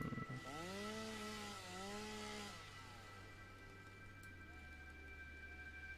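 Chainsaw in the video game Satisfactory, a loud revving buzz that sweeps up and down in pitch twice before settling into a steady drone, with no talk over it.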